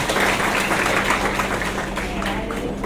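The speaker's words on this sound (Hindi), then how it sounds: "जोरदार तालियां बजाएं।" Audience applause at a Jain Seva Samiti talent award ceremony in Moradabad, a steady wash of clapping from a sizeable crowd that holds for about three seconds, with some voices mixed underneath.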